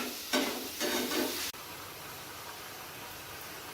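Onions fry in oil for paneer butter masala, giving a loud steady sizzle broken by a few bursts of stirring, then the hiss drops abruptly to a softer, even frying sound.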